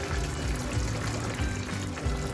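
Ingredients pour steadily into a pot of sizzling sausage chilli, a continuous wet splashing and trickling over low kitchen noise, with no talking.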